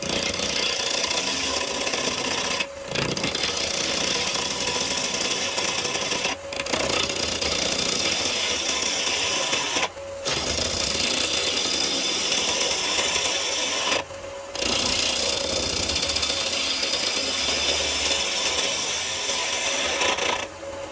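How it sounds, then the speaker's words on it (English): A spindle roughing gouge rounds off a piece of yew turning on a wood lathe, giving a steady, loud scraping and rasping that runs almost continuously, broken by a few brief pauses. "I'm just rounding it off with a spindle roughing gouge"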